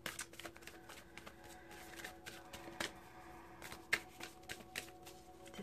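Tarot cards being shuffled by hand, a soft, quiet papery riffling with scattered light flicks and taps, close by and with no talking.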